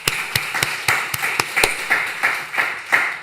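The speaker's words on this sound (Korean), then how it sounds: "박수 한번 치십시다." A church congregation at a Friday night service claps together in a steady, even beat, each crisp clap close and loud, with no talk over it.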